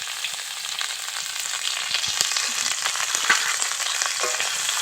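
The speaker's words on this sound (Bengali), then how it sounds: "তো আমি একটু ভালো করে ফুলকপিটাকে ভেজে নিচ্ছি।" Salted cauliflower florets fry in hot oil in a pan, a continuous close crackle and sizzle with occasional stirring scrapes, no voices.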